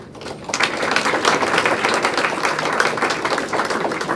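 An audience at a community foundation's spring grant celebration bursts into applause, many hands clapping in a loud, dense, steady patter that starts half a second in and carries on for about four seconds.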